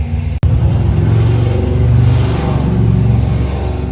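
A car with a budget 351 Windsor stroker V8 revs loud and close, a deep continuous rumbling engine roar held for nearly four seconds after a brief cut at the start.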